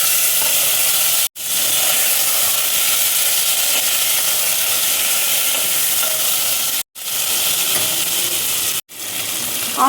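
Tomatoes dropped into hot oil in a pan while cooking veg paneer, giving a loud, steady frying sizzle and steam hiss that runs nearly the whole time, broken by a few brief silent cuts.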